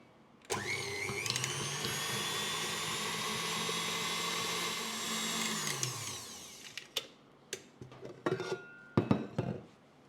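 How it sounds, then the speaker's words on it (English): An electric mixer whips cream at high speed, a loud steady whine for several seconds that slows and stops, followed by scattered clinks and taps of the bowl. "I have 350 grams of whipping cream, beat with high speed of electric mixer until forms."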